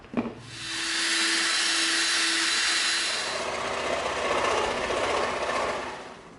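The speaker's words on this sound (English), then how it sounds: "we're going to poke a hole through here so we can feed the scroll saw blade through, and then we're going to cut it out" A scroll saw cuts through EVA foam with a steady, fairly loud mechanical buzz. It holds for several seconds after a brief click at the start and runs alone, with no talk.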